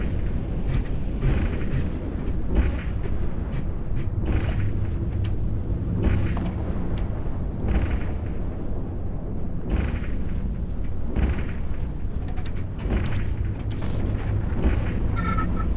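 Weapons fire strikes a player's ship in the space game EVE, a continuous loud barrage of deep booming impacts and bursts rolling on without pause.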